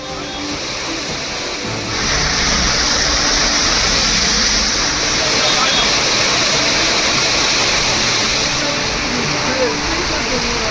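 Heavy rainwater mixed with sewage gushes down a road in Tiruttani like a waterfall, a loud broadband roar that swells after a couple of seconds and holds steady throughout.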